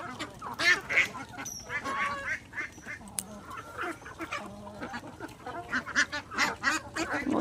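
Ducks feeding in a village yard quack repeatedly in short, uneven bursts, several birds close by and overlapping, with soft rustling and scattered clucks around them.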